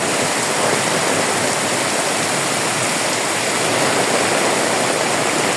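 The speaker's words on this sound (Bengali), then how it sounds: "দেখছেন কি বৃষ্টি পড়তেছে" Steady, dense rush of heavy rain pouring down during a storm, a loud, unbroken hiss with no pauses and no voices throughout.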